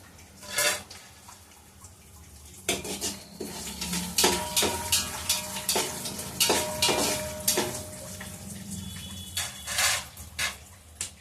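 Garlic, ajwain, cumin, mustard seeds and curry leaves hitting hot oil, giving a crackling sizzle with sharp pops and spoon-against-pan clinks that builds after a quiet start and keeps going steadily, close up with no talking.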